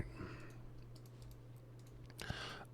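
Faint, scattered clicks from a computer keyboard during a livestreamed Minecraft session, sparse and soft over a steady low electrical hum, with a brief louder flurry near the end.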